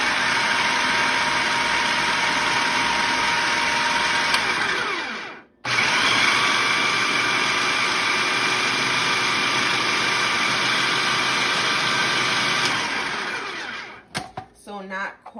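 An electric mixer whirring loudly and steadily as it mixes Guyanese pastry dough with butter, briefly stopping once partway, then winding down and clattering at the end.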